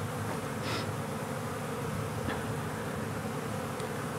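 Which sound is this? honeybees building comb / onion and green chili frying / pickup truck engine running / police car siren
honeybees building comb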